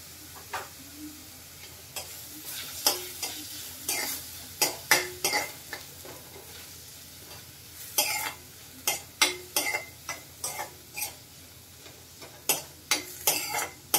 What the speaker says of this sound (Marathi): आता आपण त्याच्यामध्ये घालूया थोडी आल्या लसणाची पेस्ट।